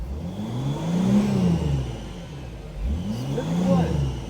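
Engine of a 2007 Mercedes Sprinter diesel van running with no muffler or particulate filter, revved twice in rising and falling surges, fairly subdued and near, with a voice partly over it.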